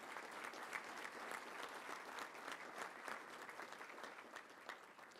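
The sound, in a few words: audience applause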